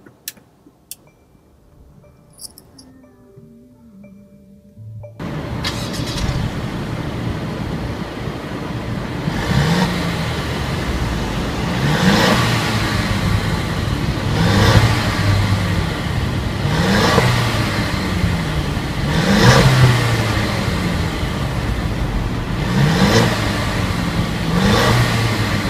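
A 2016 Mercedes-Benz C300 engine starts after a few seconds of quiet, then holds a steady idle broken by a series of evenly spaced revs that swell and fall, close and loud, with no talking.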